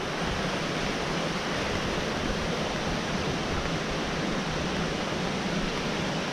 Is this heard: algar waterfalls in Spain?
yes